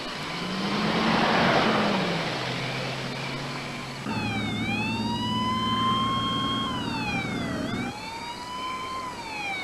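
An ambulance siren wails loudly and steadily, its rising and falling tone sweeping up and down over the rumble of traffic, staying close and continuous throughout.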